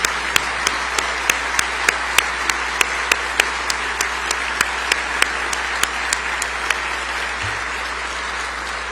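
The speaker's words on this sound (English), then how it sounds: "let us give you a round of applause and thank you for all that you've done" Applause from an audience honoring law enforcement at an immigration enforcement event, a steady sustained crowd clapping with a few distinct sharp claps standing out near the microphone.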